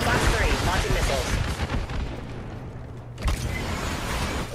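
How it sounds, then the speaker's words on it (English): Missiles launching in a video game, a heavy, roaring rush of blasts and rumbling booms that fills the first three seconds, dips briefly, then surges again with another loud burst. "Launching missiles."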